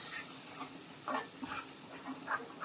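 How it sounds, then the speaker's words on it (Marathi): Ground spice paste for a Maharashtrian prawn curry roasting in oil, a soft continuous hiss and sizzle with a few brief crackling bursts, quiet and close. "वाटण टाकलं ते चांगलं तेलामध्ये भाजून घ्यायचं, मिक्स होईपर्यंत, तेल सुटेपर्यंत."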